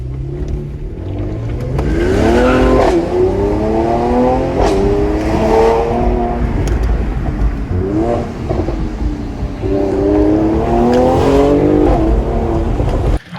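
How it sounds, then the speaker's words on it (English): A Mercedes-AMG C43 V6 twin-turbo engine revs hard several times in bursts, the exhaust rising in pitch and dropping back, loud and close with no voices. "first car is a C43 AMG. It is a V6 twin turbo"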